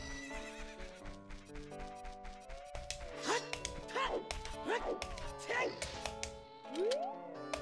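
Horse neighs and hooves clip-clop in The Legend of Zelda: Ocarina of Time, with several bright whinnies repeating over a busy game soundtrack and a rising whinny near the end, under a voice talking.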